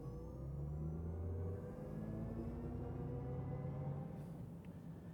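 A 2024 Chevy Silverado EV RST pulls away from a dead stop on an open road, heard from inside as a low electric whir and road rumble with rising tones, fairly quiet and steady, without talk.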